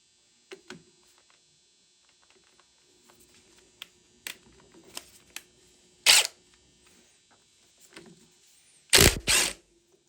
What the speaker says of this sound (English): So I'm gonna get a impact gun on this.